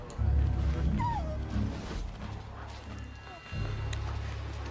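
In the Assassin's Creed Liberation video game, a dog whimpers with short high whines and brief yips over a low steady game rumble, while someone talks over it.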